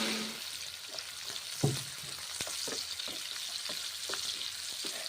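Tomatoes fry in a pan for a bottle gourd (lau) dish, a soft, even sizzle with several light spatula scrapes and one louder knock near the start, fairly quiet, no voices.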